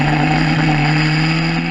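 Historic Formula Ford race cars at Brands Hatch around Paddock Hill Bend, their engines droning loud and steady with a sustained mid-pitched buzz and no pause.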